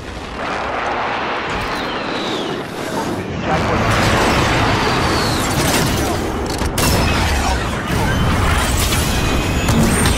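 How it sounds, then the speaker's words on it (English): Explosions from a cruise missile strike in a video game boom and rumble continuously and loudly, with sharp crashes scattered through a dense barrage. "Cruise missile ready."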